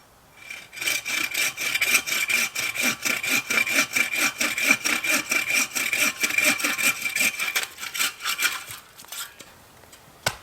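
A hand saw cuts through a wooden center pole for an Atuk Kanguk tent at a backyard winter campsite. Fast, rhythmic back-and-forth rasping strokes sound loud and close, continuous for several seconds before slowing and stopping.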